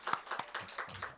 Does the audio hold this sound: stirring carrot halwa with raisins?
no